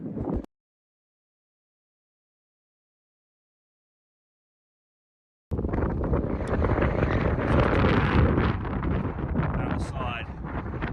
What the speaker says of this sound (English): the wind has really started to pick up a bit these last 10 minutes